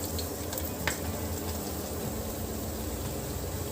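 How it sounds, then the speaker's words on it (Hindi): Almonds, pistachios and cashews frying in a pan over a low flame for Eid sheer khurma, a steady soft sizzle and crackle with a faint stir or clink near the start, close and even throughout. "पहले इनको हम फ्राई करेंगे, उसके बाद हम बाकी के ड्राई फ्रूट को फ्राई करेंगे।"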